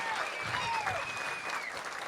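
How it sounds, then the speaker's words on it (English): Steady applause from a comedy club audience at a comedy school graduation show, dense and sustained for about two seconds, with a few faint voices and whistle-like tones mixed into the clapping. "Let's give them a round of applause for that anyway, just to be brave enough to take this class."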